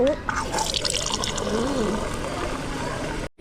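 A water dispenser fills a cup, a steady close trickle and pour running continuously, with a voice talking over it and a sudden cutoff at the end.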